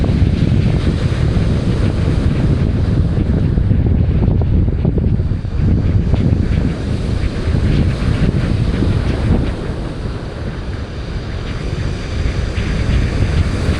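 Strong wind buffeting the microphone outdoors, a loud continuous rumbling roar with gusty surges that stays dense for the whole stretch.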